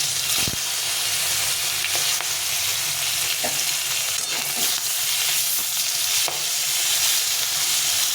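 Singi fish frying in a small amount of hot mustard oil, a steady loud sizzle and crackle with occasional spits and pops, close and continuous, no voices.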